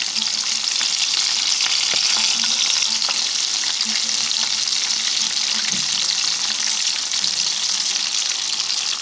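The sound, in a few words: calamari frying in hot oil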